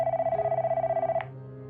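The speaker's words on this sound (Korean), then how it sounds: "또다시 전화가 울리기 시작했다." A telephone rings with a rapid electronic warble that pulses steadily for just over a second and then cuts off, close and moderately loud.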